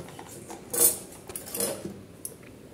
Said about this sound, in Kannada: ಕಪ್ಪಿಗೆ ಹಾಕಿ ಬೆರೆಸ್ಕೊಳ್ಳೋಣ.